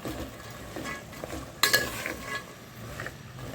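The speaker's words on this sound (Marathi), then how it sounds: "ह्या सगळ्या भाज्या छान मिक्स करून घ्यायच्या" Mixed vegetables are stirred in hot oil with a soft sizzle and a few scrapes, then one sharp clink of a utensil against the pan, quiet and close.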